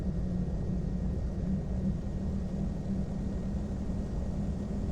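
Steady low engine drone from a Piper PA-34 Seneca twin-engine plane taxiing in a flight simulator, a constant rumbling hum with no speech over it.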